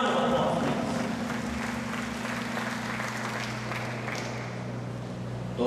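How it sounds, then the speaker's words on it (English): Audience applause at a maritime cadet recognition and pinning ceremony, a steady wash of clapping in a large hall, with a low hum and some voices underneath. "A round of applause."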